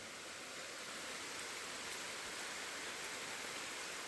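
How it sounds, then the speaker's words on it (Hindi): Heavy rain falls in a dense, constant wash of noise, steady and unbroken throughout, with no voices. "यार बारिश ने सारा काम खराब कर दिया, और तेज़ आने लगी अब तो"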